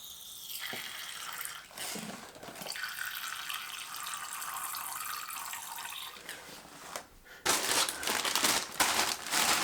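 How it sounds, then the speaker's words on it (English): Water poured from a container into the water bowl of a Brachypelma tarantula enclosure, a splashing, trickling stream mixed with crinkling handling noises, close by and without talk. "Water bowl down the front, fill that up."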